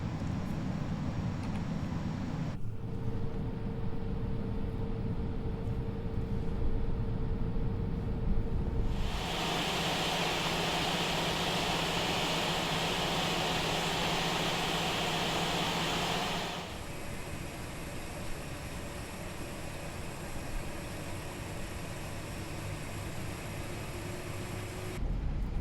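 An FSLabs A320 in easyJet livery taxis toward the runway at Basel in a flight simulator, with a steady, loud broadband engine and cabin rumble and a high hiss that shifts character partway through, with no one talking.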